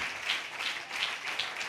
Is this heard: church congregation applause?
yes